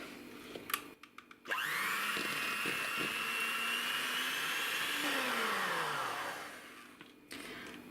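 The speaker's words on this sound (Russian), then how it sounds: "Сейчас я сливочное масло буду взбивать примерно 4 минутки, 4-5 минут до побеления и до увеличения в объеме." An electric hand mixer whips softened butter in a tall plastic bowl, a steady high-pitched motor whine held for several seconds with a grinding texture, then winding down and stopping, with brief clatter before and after.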